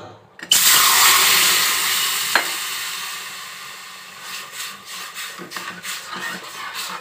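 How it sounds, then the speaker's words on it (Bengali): Water poured into roasted semolina in a hot pan bursts into a loud, sudden hiss and sizzle that slowly fades into softer bubbling and stirring clinks. "এবার আমি জল দেবো।"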